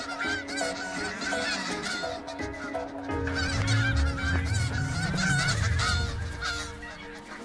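A dense chorus of snow geese honking continuously in a nesting colony, many overlapping calls forming a loud, busy flock noise with no pauses.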